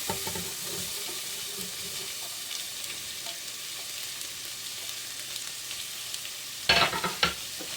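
Vegetables for a vegetarian Bolognese sizzle gently in a frying pan with a steady low hiss, while a spoon occasionally scrapes through them, and a couple of sharper clatters come near the end; no one speaks.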